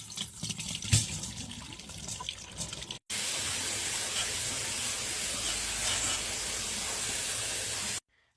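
Steady rushing water from a tap runs continuously for several seconds after a brief quieter stretch of clatter, then stops abruptly, as soaked cashews are drained and rinsed.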